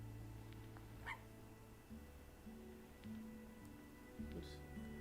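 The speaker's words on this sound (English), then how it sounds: "That sounds like Sparky" Dog barking in a video game: a few faint, brief barks and yips, spaced apart, over a steady low hum of background music.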